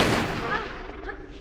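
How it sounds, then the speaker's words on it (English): Uzi fire in Tomb Raider 3's Lost City of Tinnos level, a brief loud burst of game gunfire that decays into an echoing tail with a quieter shot near the end. "I'm running out of Uzi ammo."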